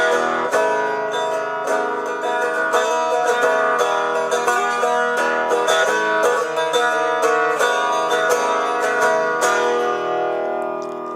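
An electric resonator guitar with a tightly coupled cone, played unamplified in a room, rings out in steady strummed and picked chords with bright metallic overtones, sounding continuously at a moderate level with no voices.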